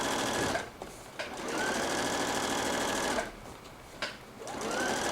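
A sewing machine runs in steady bursts while understitching a ruffle dress neckline, a loud close whirring hum broken by two short pauses, no talking.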